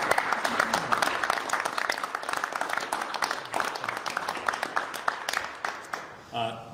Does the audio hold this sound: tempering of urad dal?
no